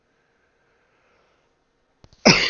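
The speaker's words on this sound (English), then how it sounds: "Still got that cough coming back every once in a while." A single sharp, harsh cough-like burst comes in loud and close after a quiet stretch, preceded by a couple of faint clicks, in a post-apocalyptic wasteland game.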